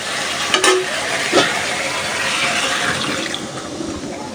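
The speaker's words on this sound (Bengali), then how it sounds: "ঝোলের জন্য পানি দিয়ে দিলাম।" Water poured into a pan of ridge gourd and jackfruit-seed vegetable curry, a close, steady rushing splash with hissing sizzle over about four seconds, a couple of sharp knocks near the start.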